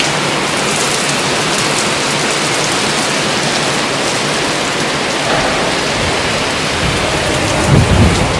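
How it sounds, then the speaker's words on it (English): A heavy thunderstorm pounds outside a prison, with loud dense rain hammering surfaces and a steady roar of thunder swelling near the end, no voices. "this rain is nuts right now"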